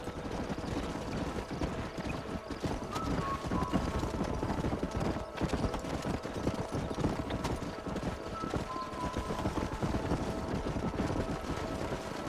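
Horse hooves clip-clop steadily in Red Dead Redemption, a continuous busy patter of several horses moving together, close and fairly loud with faint whinnies and outdoor ambience, no talk.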